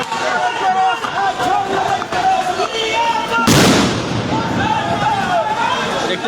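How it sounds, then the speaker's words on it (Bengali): A loud blast from a police sound grenade tears through a street rally, a single sharp broadband burst midway that rings off, amid constant crowd noise and chanting before and after. "পুলিশ সাউন্ড গ্রেনেড নিক্ষেপ করতেছে"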